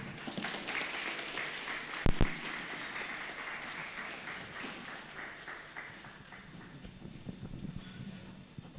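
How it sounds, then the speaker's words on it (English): Audience applause following a keynote at a language hackathon launch event, steady broadband clapping sustained for several seconds at moderate level, with a couple of sharp louder claps near the start and a gradual fade toward the end. "Please, another round of applause for the DGN CDC."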